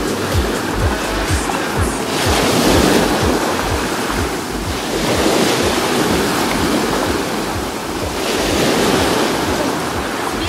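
Sea waves on a beach in Sochi, a continuous loud wash of surf rising and falling in slow swells, with wind buffeting the microphone throughout.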